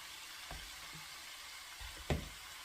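Fish heads dropped into a pan of hot spice paste, giving a steady low sizzle with a few soft stirring thumps and one sharper splash of frying near the end, close and moderately quiet.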